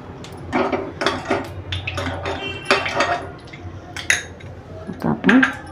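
A metal appe pan and spoon clink and scrape on a gas stove as ghee is added, several bright, close metallic taps and rattles in irregular bursts, with a sizzle-free kitchen hush between them.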